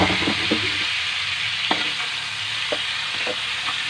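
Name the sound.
galunggong fish frying and being stirred in a pan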